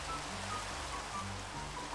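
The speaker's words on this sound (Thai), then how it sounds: "ทำไมตรงนี้ฝนไม่ตกแต่ทำไมพอไปตรงนี้ฝนมันตก" Rain falls in the video game Minecraft as a soft, steady patter and hiss, faint and continuous, with a low hum of game sounds underneath.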